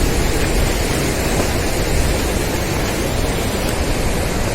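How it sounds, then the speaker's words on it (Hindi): The Rishiganga waterfall pours into the Alaknanda river in the mountains near Badrinath, a constant loud broadband rush of water with no other sounds. "ये सामने दिखाई दे रहा है ऋषिगंगा वाला झरना, बहुत ही खूबसूरत है"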